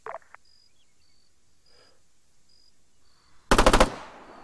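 Enemy machine gunner firing in the video game Arma 3, a quiet stretch with faint beeps and a soft breath, then a loud, close burst of about five rapid shots near the end.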